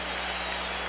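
A boxing arena crowd applauds at the end of a round in a heavyweight championship bout, a dense, steady wash of clapping and crowd noise heard briefly.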